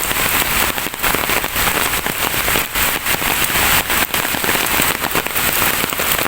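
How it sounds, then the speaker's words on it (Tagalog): Heavy rain pours steadily and loudly, a dense continuous hiss with scattered crackling drops striking surfaces close by, going on without a break. "Lakas ng ulan."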